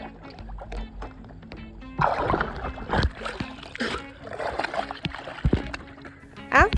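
A paddle dips into lake water from a paddle board at Claytor Lake State Park, giving intermittent soft splashes and sloshes close by, with voices talking now and then.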